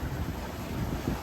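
Steady roaring wind and rushing ocean swell around a sailboat at sea, a dense continuous wash of noise with heavy low rumble and wind buffeting on the microphone, no voices.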